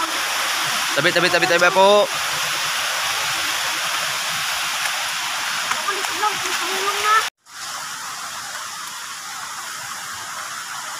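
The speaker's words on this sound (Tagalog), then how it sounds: "May tubig na nagagas." Water flowing at Budlot spring in Taginis, a steady broadband rush from start to finish, briefly cut off for a moment, with people talking over it.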